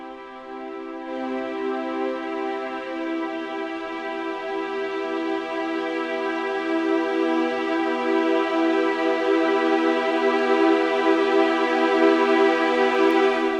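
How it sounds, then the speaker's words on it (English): A sustained orchestral string chord from Spitfire Symphonic Strings Evolutions swells steadily as its vibrato grows wider and more intense to molto vibrato, rich and full throughout. "the vibrato gets more and more intense to molto vib, and it just sounds fantastic."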